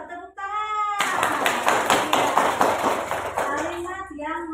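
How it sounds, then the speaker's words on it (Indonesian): A classroom of students claps together in a burst of quick, dense, close claps lasting a few seconds, with a voice speaking before and after. "pintar, tepuk tangan."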